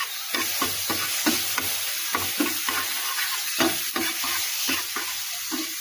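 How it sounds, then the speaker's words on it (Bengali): Food for a bread pizza being stirred in a frying pan with chili flakes added, steady rhythmic scraping strokes over a loud continuous sizzle, close up with no talking. "নাড়াচাড়া করবো।"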